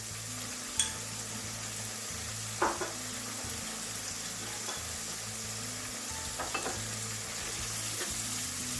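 Lamb and chicken mince with cumin and garam masala sizzles steadily in a karahi while a utensil scrapes and stirs it, with a few sharp clinks of metal against the pan.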